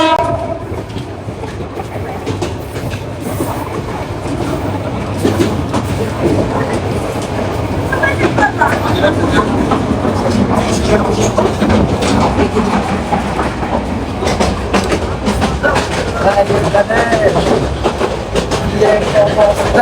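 A train runs on rails near Chittagong, a steady loud rumble with rhythmic clatter that continues throughout and builds slightly in level toward the end.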